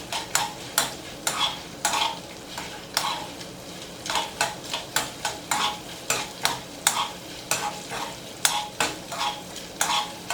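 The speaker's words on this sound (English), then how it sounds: "I saute them for about 5 minutes so that they're fully covered, they get pink, but they're not overcooked" Shrimp sauté in butter in a pan for a Jamaican-style seafood boil: a utensil scrapes the pan in regular strokes about twice a second over a low, constant sizzle, close and clear with no voices.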